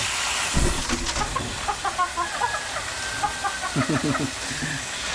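Chickens in a coop cluck in short, irregular bursts close by, with scattered calls from several birds against a faint background.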